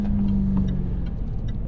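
A 2023 Jaguar F-Type R Coupe engine revving hard under full throttle, with a loud, steady low roar from inside the car. A droning tone holds through the first half, and faint ticking sounds float above the engine.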